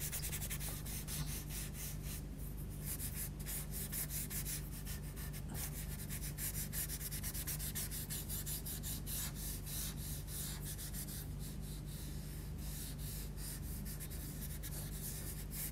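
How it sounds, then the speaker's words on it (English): A paper stump rubs and blends pastel on paper in a long, steady scratchy rasp of back-and-forth strokes, close and continuous, with no talking over it. "So again, we'll just start blending that in. I'll use the paper stump."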